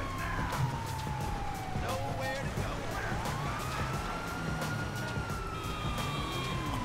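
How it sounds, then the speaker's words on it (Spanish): A police siren in GTA 5 wails up and down continuously, loud over the rumble of a vehicle engine, with scattered clicks and tones on top. "Voy prender las sirenas."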